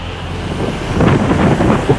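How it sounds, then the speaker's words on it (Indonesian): High, rough sea waves pounding the shore at Batu Bengkung beach in Malang, a steady broadband roar of surf and wind that swells louder midway through, with no talking. "Itu gelombang tinggi Malang."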